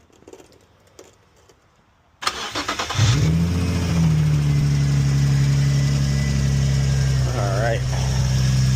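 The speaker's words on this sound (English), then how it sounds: "let's go ahead and have them fire up the vehicle" After a quiet stretch, an Infiniti G35 engine cranks and catches after an oil cooler gasket replacement, briefly revs, then settles into a steady idle close by.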